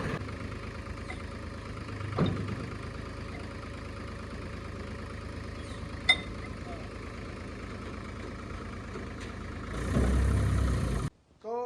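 A Mahindra tractor, parked for some time and just restarted, idles with a quiet, steady low engine hum. A brief louder surge comes near the end before it cuts off.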